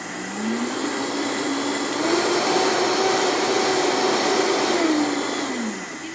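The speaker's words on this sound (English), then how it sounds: "I love using the Vitamix for my coffee" Vitamix blender whipping keto coffee: a loud, steady motor whine that ramps up in pitch, holds at high speed for a few seconds, then winds down, close up with no talk.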